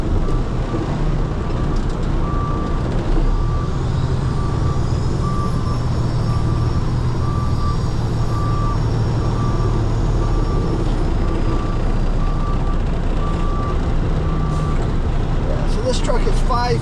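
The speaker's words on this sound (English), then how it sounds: "This truck is 5 feet longer than the truck I normally drive." Large truck, longer than usual, driving during a night-shift delivery run, with steady loud engine and road rumble throughout and a repeated high reversing-style beep pulsing faintly over it; voices may be present under the noise.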